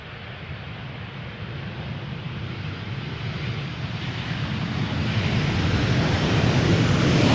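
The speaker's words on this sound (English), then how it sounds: "Got a Turkish A350 coming in and a Dreamliner TUI arriving from Cancun" Airliners, a Turkish A350 and a TUI Dreamliner, arrive at Schiphol's Polderbaan on a sunny day, the broad jet roar growing steadily louder as an aircraft approaches.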